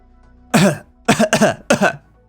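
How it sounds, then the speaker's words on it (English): Four harsh, forceful coughs, one and then a quick cluster of three after a short pause, close and loud over a quiet background. "I need to stop actually coughing for these"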